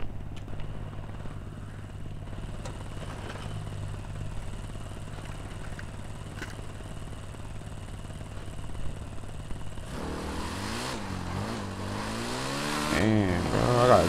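A motorcycle engine idles with a low rumble, then revs up loudly in rising and falling surges during the last few seconds.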